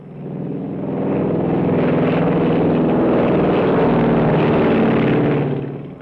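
B-25 bomber flying during munitions tests at Edgewood Arsenal, a loud, steady propeller-engine drone that builds in, holds for several seconds and eases off slightly at the end.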